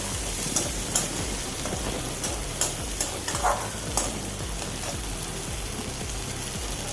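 Chopped carrots being stirred into oats upma in a pan, a soft sizzle broken by several sharp scraping strokes of a spoon.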